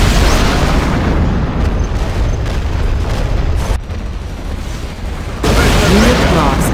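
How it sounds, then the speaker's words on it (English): Offshore artillery shells explode in the video game Command & Conquer Generals, heavy continuous booms and rumbling blasts piling up loudly, with a brief dip midway before another round of impacts. "Offshore artillery. They're attacking our base. Main batteries engage."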